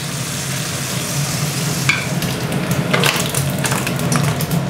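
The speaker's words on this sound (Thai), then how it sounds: "เราก็จะใช้น้ำมันจากที่เราเจียวเบคอนนี่นะครับเอาไปผัด" Cabbage and garlic stir-frying in rendered bacon fat, a loud dense continuous sizzle with scraping and tossing noises from the spatula growing busier midway, close up with no talk.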